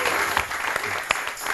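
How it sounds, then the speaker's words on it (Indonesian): An audience bursts into brief, loud applause in an indoor setting, with voices briefly audible underneath. "tepuk tangan lagi dong"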